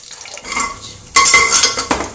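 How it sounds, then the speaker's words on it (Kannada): Chana dal and urad dal tipped into hot oil in a pan, a loud burst of crackling sizzle after a spoon clatter, settling into steady frying with a second flare near the end; no talk. "ಎಣ್ಣೆ ಕಾದಿದೆ. ಸೊ ಇಷ್ಟು ಜಸ್ಟ್ ಒಂದು ಸ್ಪೂನಷ್ಟು ಕಡಲೆಬೇಳೆ, ಉದ್ದಿನಬೇಳೆ ಹಾಕ್ತಾಯಿದ್ದೀನಿ"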